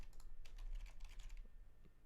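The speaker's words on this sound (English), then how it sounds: "why isn't my keyboard working?" Rapid clicking of computer keyboard keys in irregular quick bursts, close and fairly soft, with no voices.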